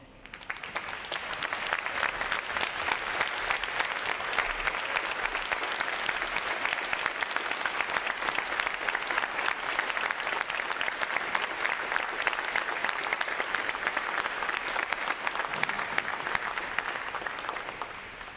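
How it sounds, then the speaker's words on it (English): An audience applauds veterans at a Navy recruit training command graduation, a sustained, even wash of many hands clapping that holds steady for the full stretch before tapering at the end. "let's give them a round of applause"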